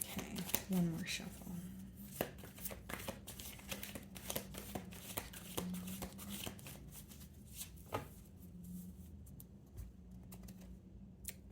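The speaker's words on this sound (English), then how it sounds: "Okay, one more shuffle." Tarot cards are shuffled in quick, crisp riffles and flicks, close and fairly soft, with irregular bursts of papery taps and slaps.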